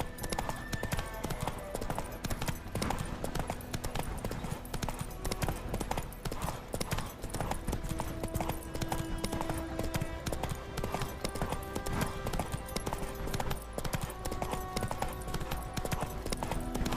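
Hooves of the horse Roach trot steadily in The Witcher 3 video game, a continuous clip-clop rhythm over constant game ambience, fairly quiet throughout.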